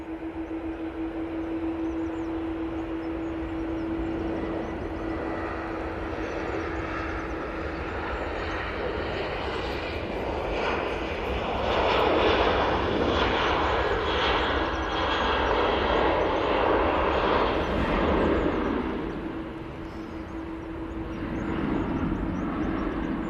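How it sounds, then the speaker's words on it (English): A TUI Boeing 737-800 rolls down the runway at Manchester Airport, its engine roar a broad, steady rush that swells louder midway through the takeoff run, then eases slightly before rising again. "TUI on the roll using the 737-800."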